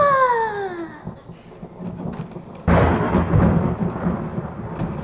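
A thunderstorm in a high school stage play, where a high descending wail fades before a loud rolling crash of thunder. Rumbling storm noise continues afterward.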